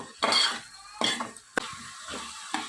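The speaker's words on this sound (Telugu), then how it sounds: "ఆయిల్ బాగా మరిగిన తర్వాత ఉల్లిపాయలు పచ్చిమిరకాయలు కరివేపాకు అలాగే కొద్దిగా పసుపు కొద్దిగా ఉప్పు వేసుకొని బాగా మిక్స్ చేసుకోవాలి" Onions, green chilies and curry leaves are stirred into hot oil with a little turmeric and salt, giving a few distinct scraping clatters of a spoon against the pan over a soft background sizzle, with no voices.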